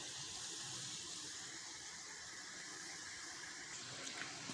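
Water poured into a pot of browned chicken and spice masala while cooking chicken nihari, a steady, fairly faint rushing pour lasting throughout with no talk.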